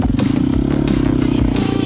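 An enduro motorcycle engine runs loud and close in a deep rut on a gnarly track, its steady pulsing drone with clattering, no clear cut-out heard.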